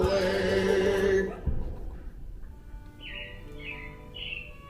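Animatronic robins chirp in the Carousel of Progress show at Magic Kingdom, a few bright, short tweets rising near the end after a loud burst of music and a thump fade away.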